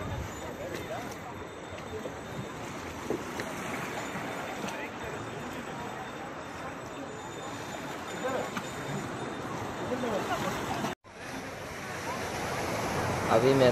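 Continuous wash of sea waves and surf at Rock Beach, Puducherry, with a steady roar, someone talking over it, and a brief cut before the surf resumes louder.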